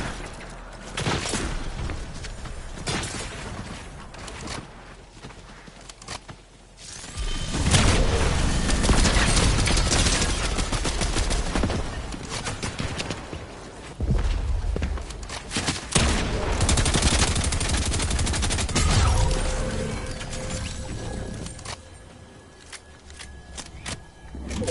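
Video game gunfire in repeated bursts and volleys, loud and fairly near, with short quieter gaps between flurries of shots.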